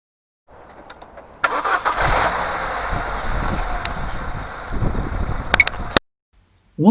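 A Vauxhall Corsa C 1.2 petrol engine cranks and fires up after an oil service with the crankcase cap refitted, then runs loudly and steadily up close for several seconds before cutting off abruptly.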